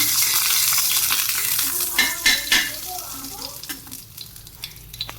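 A spoon of oil sizzles in a pan for khichuri, a steady close crackle with a few metallic scrapes and clinks of a utensil against the pan partway through.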